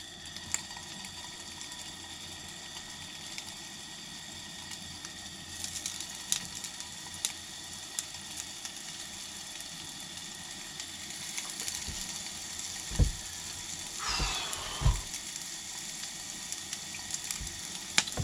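Meatballs searing in a hot pan outdoors, a steady low sizzle running throughout with a few sharp pops and spits late on, close and fairly quiet.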